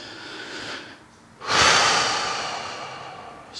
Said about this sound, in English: Here's our exhale.